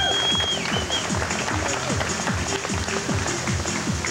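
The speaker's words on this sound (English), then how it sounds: "Big round of applause for our first contestant" An audience applauds the first contestant at a live show, with steady clapping mixed with crowd noise and a high tone sounding briefly near the start.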